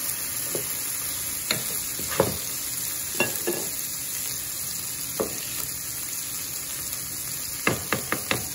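An Oklahoma-style burger patty with onions sizzles on a griddle in a steady loud hiss, punctuated by occasional spatula scrapes and taps, including a quick cluster near the end.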